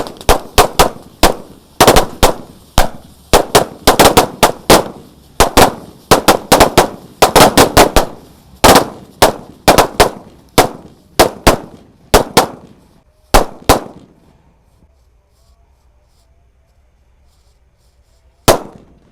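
A whole box of disco firecrackers going off on a Ramadan night, a long rapid string of loud sharp bangs for about thirteen seconds, then quiet before one final lone crack.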